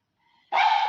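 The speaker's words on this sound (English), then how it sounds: "Now my dog is barking outside." A single short dog bark from a pet outside the house, loud and abrupt after near silence.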